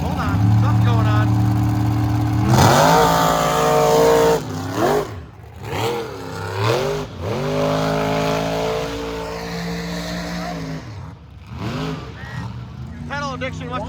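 Big-tyred trucks race at the Michigan Mud Jam with loud, near engine roars and revs that rise and fall in several surges, while a commentator talks over them.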